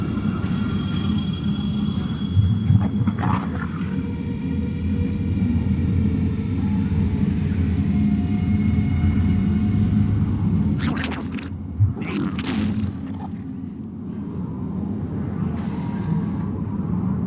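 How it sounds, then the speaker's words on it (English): A flash freeze storm in the video game StarCraft II sounds as a loud, sustained low rumbling roar like heavy wind, with a few brief sharp gusts breaking through partway. "A flash freeze storm has hit."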